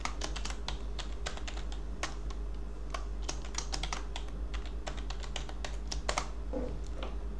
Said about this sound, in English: So I have to enter my password.